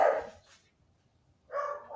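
Household dogs let out two short barks, a sharp yap followed by a brief pause and another bark, close and fairly loud, with no speech.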